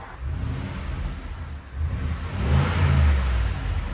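A big Ford Super Duty pickup's 6.2-liter V8 idles with a deep rumble, then revs up once, rising in pitch and loudness before settling back.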